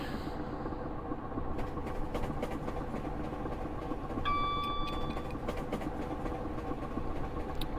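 Class 325 electric train coasting in Train Simulator Classic between Bedford and Gatwick Airport: a steady low rumble and rail noise throughout, with a brief bright warning-like tone partway, no talk.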